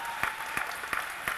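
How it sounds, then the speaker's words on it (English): Scattered clapping at a college commencement ceremony, a few distinct claps spaced roughly every third of a second over a faint room background, thin and sparse rather than a full crowd. "Seniors, please give your support system a round of applause."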